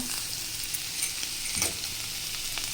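Carrots frying in a pan for a carrot and peanut curry, giving a dense, continuous close sizzle with soft stirring scrapes, and no voices over it.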